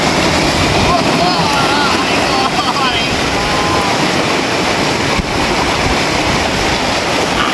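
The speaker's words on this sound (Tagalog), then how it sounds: "Grabing laki ng alon" Big ocean waves surge and wash continuously on a beach with a steady broadband roar, a few voices chattering faintly over the surf.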